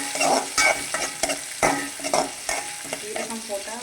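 Garlic and green chili frying in a pan while cooking keerai, a bright crackling sizzle with spoon stirring and scraping strokes, close and steady across the clip with no talking.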